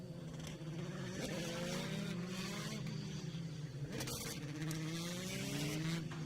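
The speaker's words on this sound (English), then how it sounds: "Cars continuing around on this warm-up lap." Race cars on a warm-up lap at the Phillip Island Grand Prix Circuit drone steadily at a distance, overlapping engine tones rising and falling as they circulate, with a faint passing surge midway.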